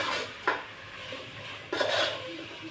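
Chicken curry being stirred in a pan after tempering in oil, with a steady scraping sizzle and two sharper clinks of a utensil against the metal. No voices.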